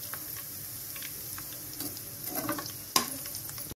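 Onions being fried for chicken korma sizzle in a pan with light stirring scrapes, a steady close hiss broken by a sharper clink near the end.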